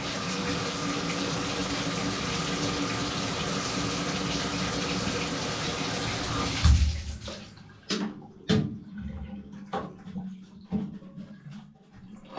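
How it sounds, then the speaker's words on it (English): Water runs steadily and loudly into a plugged bathtub drain after clearing, then cuts off, leaving a few sharp drips and knocks in the quieter room. "We ran the water, tested it, everything's looking good."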